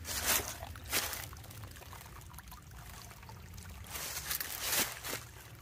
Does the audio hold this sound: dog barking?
no